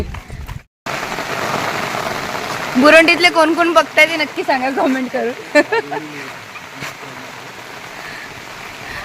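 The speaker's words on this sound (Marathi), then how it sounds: "पाऊस आलाय काल रात्रीपासून खूप पाऊस पडतोय" Constant hiss of heavy monsoon rain near a coastal village harbour in the Konkan, Dapoli area, with a person talking clearly over it for several seconds.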